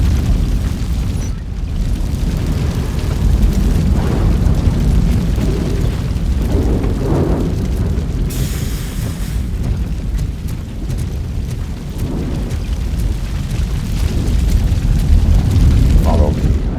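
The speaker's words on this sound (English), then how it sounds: "Fire is blocking the way." Fire roaring in the video game Robocop: Rogue City, a loud continuous low rumble with occasional bursts and pops, with speech over it at times.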